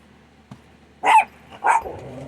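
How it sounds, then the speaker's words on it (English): Two loud, close barks from a pet dog indoors, spaced about half a second apart, preceded by a faint thump and followed by a low growl-like tail. "Of course, my dogs are going to bark."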